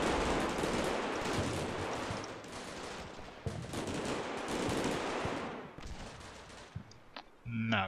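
Sustained automatic gunfire pours into a building in the war game Combat Mission Shock Force 2, loud and dense, running almost continuously before thinning into scattered shots at the end.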